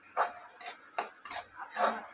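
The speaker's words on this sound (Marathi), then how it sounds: "आपण मसाला असा भाजायचा" Masala for karela (bitter gourd) is roasted in a pan, heard as a spoon scraping and clinking against the metal in several short, irregular strokes, fairly close and quiet.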